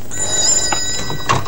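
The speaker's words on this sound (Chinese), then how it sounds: "哎，陈大哥，电话响了，可能是徐先生打来的" An old-fashioned telephone bell ringing indoors in a 1982 martial arts drama, a shrill sustained ring broken by a short pause before it rings again.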